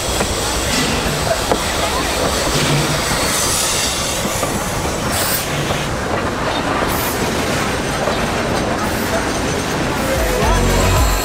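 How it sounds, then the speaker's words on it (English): A Puffing Billy train hauled by an NA Class 6A steam locomotive arrives at Lakeside station, wheels clattering and squealing on the rails over a continuous rolling rumble, with a louder burst near the end. "Another train pulled by NA Class 6A arrives at Lakeside."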